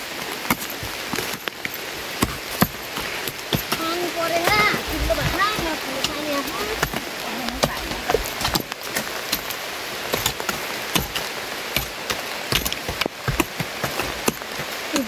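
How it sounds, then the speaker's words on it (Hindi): Heavy monsoon rain pours down steadily in a rural village, a dense hiss with scattered sharp drips and splashes, while a voice speaks partway through. "यस झम झम असारे पानी परेको छ"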